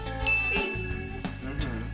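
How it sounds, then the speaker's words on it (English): A notification bell sound effect on a talk show, bright ringing chime tones that sustain and repeat over a low musical bed, with no talking. "Check out that bell. Hit the bell."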